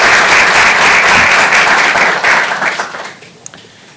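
A large audience applauds in a hall at a 2014 New York City service summit, dense loud clapping that holds steady, then thins out and fades toward the end with a last stray clap.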